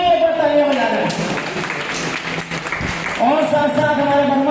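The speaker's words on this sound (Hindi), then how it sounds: "गोविंद जी की तरफ से जो है उनके लिए भी एक बार तालियां बजा रहे हैं" Audience applause at an Indian community celebration event, steady clapping from a crowd lasting a few seconds, with someone speaking over it in Hindi at the start and end.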